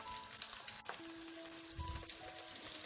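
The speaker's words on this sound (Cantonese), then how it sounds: "煎一煎呢啲蝦，唔需要煎太耐，每邊煎佢30秒就差不多噶啦。" Shrimp sizzle in a hot pan for a shrimp and vermicelli casserole, giving a continuous soft, crackling fry with a few spatters and tool taps, at low volume and without talk.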